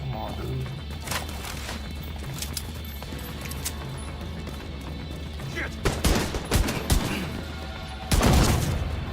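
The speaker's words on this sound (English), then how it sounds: "that explosion is so satisfying," Video-game explosions and gunfire: sharp, heavy bursts hit near the end, with scattered shots earlier, over a low game rumble and someone talking throughout.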